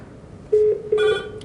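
An Avaya IP Office desk phone rings with two short electronic tone bursts, close and clear, over a quiet room hum with no talking.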